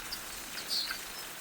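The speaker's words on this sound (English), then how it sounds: "The birds." Birds call near Elephant Sands by Chobe Park in Botswana, giving a few short, faint chirps over a quiet outdoor wash.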